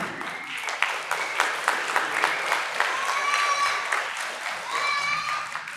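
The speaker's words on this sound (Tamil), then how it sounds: "இந்த பலத்த கரகோஷத்தை" Loud, steady applause from a crowd at the opening of a Tamil arts festival, continuous clapping with occasional voices and cheers rising above it.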